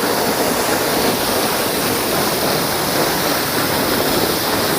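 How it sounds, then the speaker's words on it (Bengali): Seven Sisters Waterfalls beside the road to Lachen in Sikkim, a tall fall dropping from high above with plenty of water, roaring as a loud, steady, broadband rush with no voices over it. "এই দেখুন আমার পেছনে ওয়াটারফলসটা দেখছেন, দারুণ একটা জায়গা, একদম ওপর থেকে ওয়াটারফলসটা পড়ছে আর জল কিন্তু বেশ রয়েছে"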